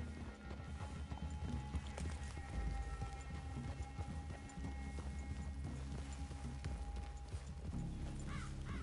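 Hooves of several horses clip-clop steadily in Red Dead Redemption 2, faint and continuous beneath ambient game sound, with no voices in the stretch.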